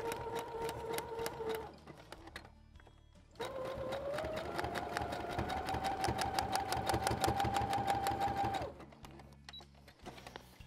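A sewing machine stitches the side seam of a homemade travel toiletry pouch, running in two bursts of steady rapid whirring, a short one and then a longer continuous run, close and loud with no talk.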